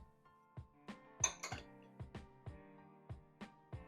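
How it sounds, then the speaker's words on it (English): Fork tapping and clinking against a bowl while lightly whisking eggs for a quiche, a steady run of sharp clinks about every half second, close and alone. "Just going to give that a light whisk with a fork to break up those eggs."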